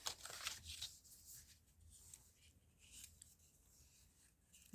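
Scissors trimming the flap of a paper pocket, giving soft close snips and rustling paper in a few short irregular cuts, quiet and without talk.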